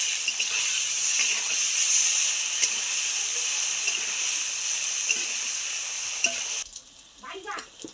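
Elephant foot yam pieces fry in a pan with salt and turmeric, giving a steady, close broadband sizzle with occasional stirring scrapes before the frying noise drops away near the end.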